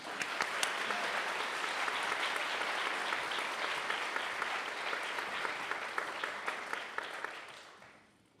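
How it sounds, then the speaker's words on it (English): An audience at an Academic Honors Day ceremony applauds two outstanding seniors, a sustained burst of many hands clapping together that holds steady for several seconds before tapering off. "Join me in applauding them."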